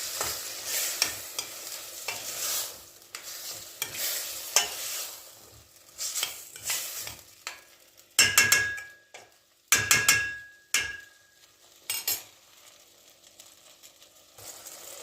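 Vegetables are stirred and sautéed in a pot for soup, a soft sizzle punctuated by repeated scraping and sharp metallic knocks of a spoon against the pot, in irregular bursts.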